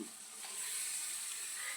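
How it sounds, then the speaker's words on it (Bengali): Spiced chicken frying in a kadai hisses with a soft, steady sizzle, quiet and close, with slight stirring shifts and no talk. "এরপর মশলা মাখানো মুরগিটাকে আমরা কড়াইয়ের মধ্যে দিয়ে ভালো করে কষতে থাকবো"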